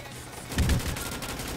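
Burst of AK rifle gunfire in a Roblox shooter game, a short loud cluster of shots standing alone over faint background noise.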